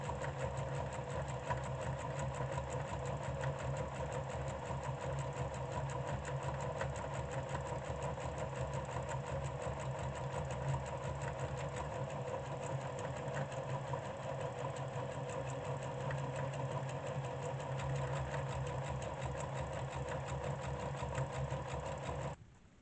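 A sewing machine fitted with a buttonhole foot stitches buttonholes in fabric, a steady close mechanical whir with rapid needle clatter running continuously before stopping abruptly at the end, with no talking.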